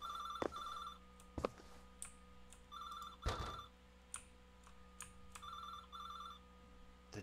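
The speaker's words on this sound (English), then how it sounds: "Where's the phone? Is it this way?" A telephone rings in a horror video game, faint repeated bursts of trilling rings separated by pauses, broken by a few sharp thuds and knocks.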